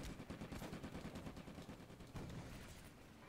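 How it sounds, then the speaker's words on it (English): Rapid, closely spaced thuds of mortar and artillery rounds landing in Combat Mission's North African desert battle, a steady rumbling barrage at moderate distance with no voices. "Mortar's hitting very well there."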